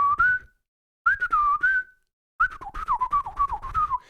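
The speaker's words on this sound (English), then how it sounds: "I'll like make little beats with whistles." Someone whistles a wavering melody in three phrases separated by short pauses, close and clear with no other sound.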